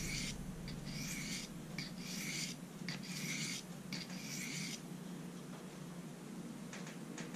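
A Swiss Army knife blade is rubbed across a sharpening stone in a series of short, close, raspy strokes, each a bright scraping burst with brief pauses between.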